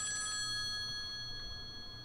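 A telephone rings inside the video game Project Selene, a faint electronic ring heard for a couple of seconds over quiet low ambient game sound.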